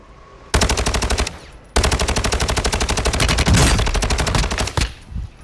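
Rapid automatic gunfire from Call of Duty Warzone in Modern Warfare 2 plunder mode rattles in two long, loud bursts, with a brief gap between them and a few sharper shots near the end.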